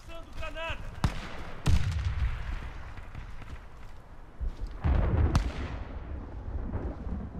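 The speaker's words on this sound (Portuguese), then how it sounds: "Lançando granada." A grenade explodes in a Counter-Strike match, two loud booming bursts with lingering rumble, amid ongoing game noise and a player talking over it.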